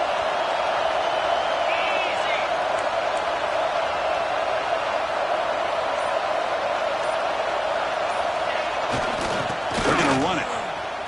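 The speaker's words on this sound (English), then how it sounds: "Listen to the crowd energy here in the early going." Stadium crowd roar in an NCAA football video game, a steady loud wash of fan noise with a swell of cheering near the end, while a commentator talks over it.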